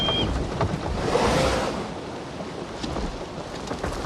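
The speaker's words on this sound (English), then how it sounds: "Just listen to that rain." Steady rain in the video game Assassin's Creed Shadows, a dense broadband wash of rainfall with soft thunder-like rumble, heard alone without talk.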